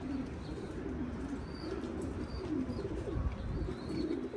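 Pigeon chicks in a loft give soft, low cooing calls that repeat under a constant background hum, with a faint chirp or two and no clear talk.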